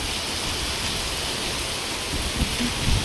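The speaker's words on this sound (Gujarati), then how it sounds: "આજ તો બહુ પણ આવ્યો વરસાદ બાપા. આમથી પવન છે ને એટલે વધારે" Heavy monsoon rain pours down steadily with wind, a dense, loud, continuous wash of noise that stays even throughout, no voices heard.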